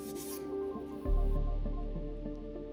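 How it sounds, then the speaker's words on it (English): Fine sandpaper rubs over soldered copper tubes on a homemade mini freezer, a soft close scraping and rasping layered over a steady low hum that swells in after about a second. "With fine sandpaper, we will polish the surface so that it looks new."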